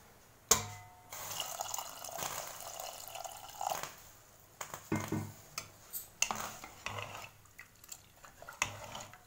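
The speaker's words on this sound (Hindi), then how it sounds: "तो इसमें अभी हमें थोड़ा सा पानी डालना है।" Water added to thick rajma gravy with turnip in a cooking pot, heard as close splashy pouring and clinks of a utensil against the pot, with irregular stirring knocks and drips across several seconds, no talking.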